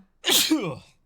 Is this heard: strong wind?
no